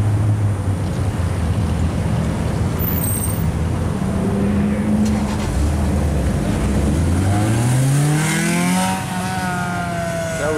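A Lotus car idles in traffic at a street cruise, its engine rumbling low, then rising in pitch as it revs, clear over the steady roar of surrounding traffic.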